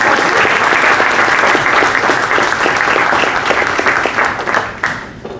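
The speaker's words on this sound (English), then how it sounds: "Let's all show our appreciation with a warm round of applause to Mr. Rupam." A loud, steady round of applause from a conference audience for a panelist, sustained for several seconds before tapering off toward the end.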